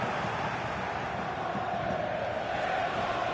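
A football-match crowd in a video game roars steadily as one broad wash of cheering voices, even in level and unbroken.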